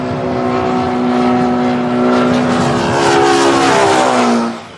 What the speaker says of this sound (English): As it gets closer and then further away, the noise it makes changes, but it doesn't just get louder and then quieter. it changes in pitch.